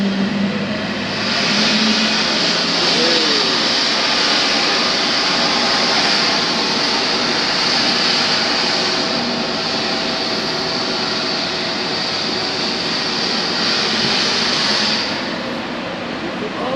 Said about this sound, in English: The noise you can hear is the beautiful Emirates 777.